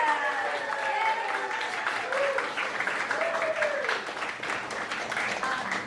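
Applause from an audience at a live grown-up show-and-tell event, steady dense clapping at moderate level with voices and brief vocal tones mixed in over nearly six seconds.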